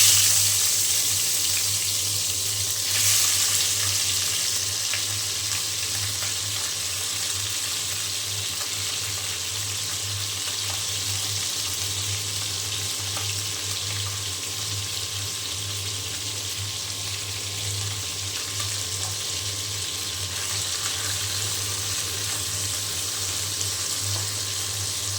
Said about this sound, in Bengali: এখন খুব ভালো করে আমি দুই পাশে ভেজে নেব।